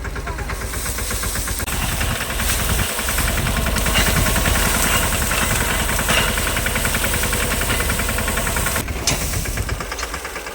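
A tractor engine runs steadily and close, a knocking mid-pitched idle with rattling vibration that holds loud throughout, during jowar harvesting work on a farm.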